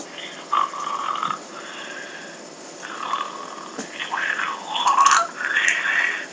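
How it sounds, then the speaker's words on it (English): A person snores in a recording, with slow rasping, purring breaths that rise and fall in repeated cycles, fairly close and steady over a faint background hum. "Oh my freaking god, I snore."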